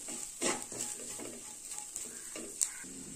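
A spoon stirs pav bhaji masala with dried fenugreek leaves in a pan, giving soft scraping strokes and light clinks over a faint sizzle, close and quiet.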